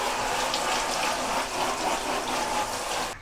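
Air conditioner filter rinsed under a running tap, a steady close rush of water that splashes continuously for several seconds, with no talk.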